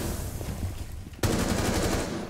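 Gunfire in Rainbow Six Siege breaks out abruptly partway through, a loud sustained burst of shots following a stretch of quieter game ambience.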